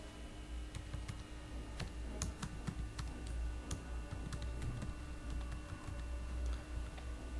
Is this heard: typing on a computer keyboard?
yes